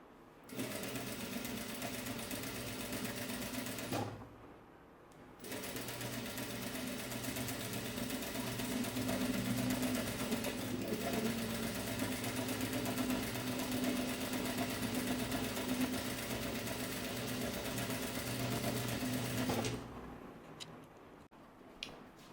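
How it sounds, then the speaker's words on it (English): A sewing machine back stitching and running along the seam of an ao dai, a steady close mechanical whir that stops briefly, resumes for a long stretch, then cuts off near the end. "back stitch and keep going until the end of the outside."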